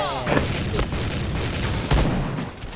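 Shotgun blasts fire in rapid succession in the shooter game Point Blank, several loud booming reports close together over a dense noisy backdrop of other gunfire.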